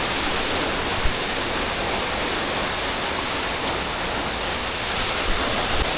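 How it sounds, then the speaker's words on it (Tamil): Keralamkundu waterfall in Malappuram pouring clear water, a loud, steady, broadband roar of falling water with no breaks and no voices. "ஃபால்ஸ் இங்கே ஊற்றிக்கிட்டு இருக்கு."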